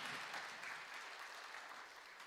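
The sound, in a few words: congregation applause of encouragement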